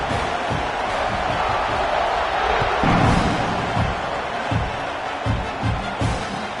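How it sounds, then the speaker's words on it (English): Stadium crowd in a PS5 American football game keeps up a steady, loud roar with a few muffled thumps and swells, heard on its own with no talk over it. "this crowd is buzzing after that last score"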